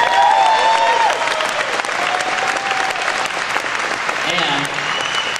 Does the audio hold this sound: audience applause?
yes